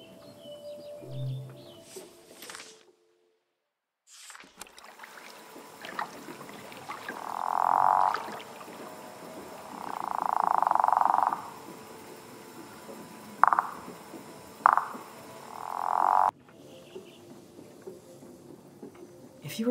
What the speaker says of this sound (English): it's mating season for frogs